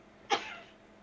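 A single short, sharp sneeze, fairly faint and alone, with quiet room tone around it.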